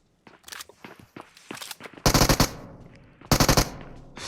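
Automatic gunfire from a shooter video game set defending the Galata Tower, with scattered single shots and footstep-like clicks early, then two loud rapid bursts up close; no one speaks.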